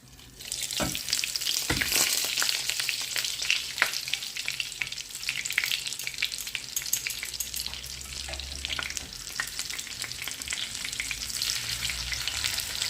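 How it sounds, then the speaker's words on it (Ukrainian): Steady, crackling sizzle of battered hake fillets frying in hot oil over high heat, continuous and close, with occasional sharper pops and spatters throughout. "на великому вогні недовго смажимо, щоб вона в нас не була сухою"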